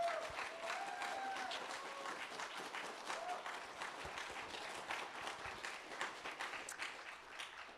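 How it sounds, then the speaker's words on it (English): Sustained, dense applause from an audience at a free and open-source software talk, loud and continuous with a few scattered cheers throughout. "I'm just going to ask you to applaud for them as loudly as you can right now"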